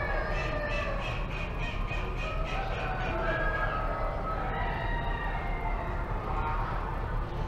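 Roosters at a Kansas State Fair poultry barn crow and cluck through dense crowd and barn noise. Several crows come one after another at middling distance, partly masked by the steady din.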